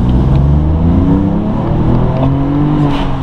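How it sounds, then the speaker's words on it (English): A BMW M2 Competition with a Remus exhaust rumbles deeply and loudly, its pitch rising and falling as the throttle is gently blipped, with no talking. "the bass just feathering the throttle"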